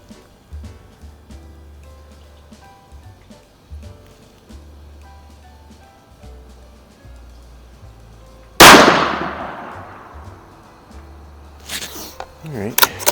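A single loud, sharp report from a Savage B-Mag 17 WSM rifle firing Hornady ammunition at a shooting range, decaying quickly, followed by a few clanks and knocks after quiet ambient hum.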